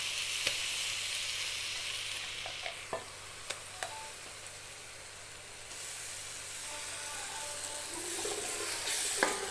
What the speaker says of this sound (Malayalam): നമുക്ക് ഇനി ഇതിലേക്ക് നേരത്തെ അടിച്ച ഇഞ്ചിയും പച്ചമുളകും പേസ്റ്റ് ഇട്ട് കൊടുക്കാം.